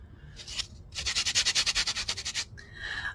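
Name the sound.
buffing pad going over edges to remove burrs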